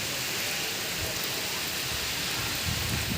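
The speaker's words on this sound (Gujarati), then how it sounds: "ફરી પાછો વરસાદ આવી ગયો" Light rain falling outdoors on a farm in the morning, a steady, even hiss of drops with no break, a soft low rumble near the end.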